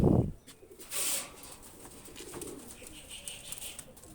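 A Pakistani high flyer pigeon gives a low, close coo at the very start, followed by soft rustling and faint bird sounds with no talk.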